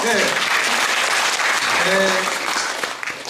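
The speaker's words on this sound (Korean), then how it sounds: "박수" An audience applauds at a Korean agricultural policy forum's talk concert, a fairly loud wash of clapping that tapers slightly toward the end, with a voice speaking over it.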